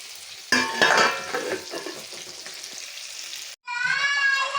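Fish frying in a home kitchen pan while a curry simmers on low heat, a steady sizzle with stirring clatter. The sound cuts out briefly, then returns with a brighter, hissing sizzle.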